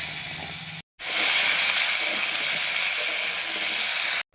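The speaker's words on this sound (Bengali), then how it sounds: "আলুগুলো ভেজে নিচ্ছি।" Potatoes fry in hot oil in a wok with a loud, steady, close sizzling hiss, broken by two brief cuts, and no voices.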